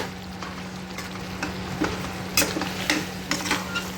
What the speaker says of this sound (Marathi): व्यवस्थित मिक्स करून